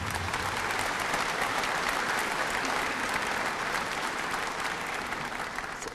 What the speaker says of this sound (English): One more round of applause for the retirees.